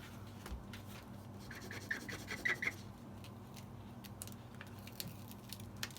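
Hard card rubbed over transfer tape for an etched mirror craft, making soft, faint scratchy scraping strokes with a few small squeaks, close up and quiet.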